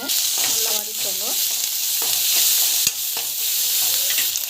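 Onion, garlic, dried chilli and grated coconut sizzle in a pan as a spatula stirs them in repeated scrapes, with a sharp tap on the pan midway and a faint voice in the background.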